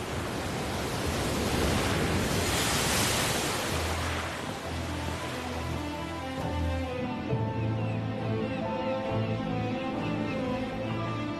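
Violent waves of the North Sea around the island of Helgoland, a broad, steady roar of surf that stays loud and continuous throughout, with no voices.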